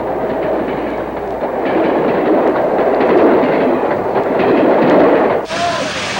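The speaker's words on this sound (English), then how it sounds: "The rush and roar of a passing train filled spectators with awe" A passing train roars past at close range in a loud, steady rush with a clattering rhythm of wheels on rails, cutting off abruptly near the end.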